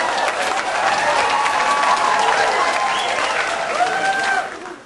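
A live crowd claps and cheers loudly and continuously at an evening show, with voices whooping above the steady applause before it cuts off abruptly at the end.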